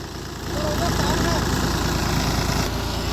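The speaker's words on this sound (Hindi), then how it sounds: "ये देखो जी ट्रैक्टर चलेगा।" A tractor engine runs steadily with a dense low rumble that swells after a soft start, loud and close, with people talking over it.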